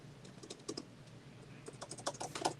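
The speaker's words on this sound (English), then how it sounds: "I hear you typing." Rapid typing on a computer keyboard during a live coin shop call-in stream, irregular clusters of clicks growing busier and louder toward the end, with no voices.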